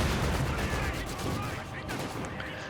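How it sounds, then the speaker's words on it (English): Mortar fire in the World War II strategy game Company of Heroes 2, loud dense bursts of explosive booms and gunfire overlapping for several seconds. "as I hear the mortars going off"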